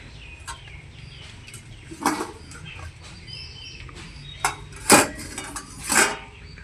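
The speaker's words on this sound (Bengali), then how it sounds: "এখন ঢাকাটা তুলে নেবো" A pot lid comes off a pan of steamed potatoes for a yam curry, giving a few sharp metallic clanks and clinks against a quiet kitchen background.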